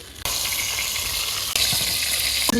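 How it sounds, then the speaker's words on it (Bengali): Eggplant slices fry in hot oil in a pan in a Bengali village kitchen, a loud, continuous sizzle that flares up sharply as pieces are turned partway through. "বেগুনগুলো সব এপিট ওপিট করে ভাজতে নিছি"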